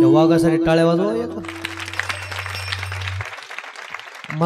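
An audience at a kirtan breaks into sustained clapping after a brief voice, lasting about three seconds alongside a steady low tone before fading.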